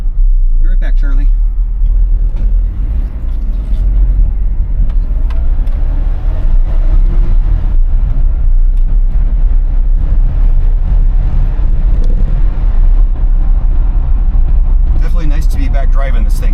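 A 1980s pickup truck engine drones with a loud, low, steady rumble from inside the cab while driving, with road and cabin noise all the way through and a few brief knocks and clicks.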